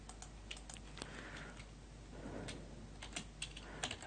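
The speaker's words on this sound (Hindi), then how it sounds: "मैं यहाँ पे टाइप करता हूँ" Typing on a computer keyboard, scattered quick key clicks and taps in short irregular bursts, faint and close in a quiet room.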